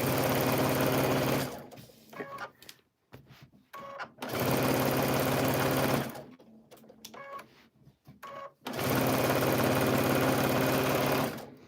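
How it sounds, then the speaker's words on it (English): A home sewing machine stitches a quarter-inch seam on a girl's dress, running loud and close in three long steady bursts with brief pauses and small handling clicks between them. "I'm going to sew a 1/4 inch here"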